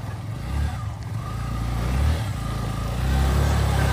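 Off-road vehicle engines rumble and rev over rough ground on the trail to Rajmachi Fort near Lonavala, a low, steady drone swelling and easing as they drive past, with faint voices in the background.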